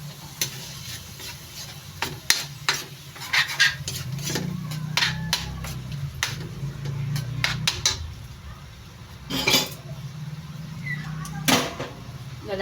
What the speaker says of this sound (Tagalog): Kaya, ilalagyan na natin ang ating toyo.